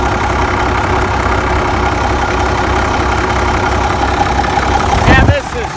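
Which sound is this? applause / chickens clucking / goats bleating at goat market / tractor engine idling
tractor engine idling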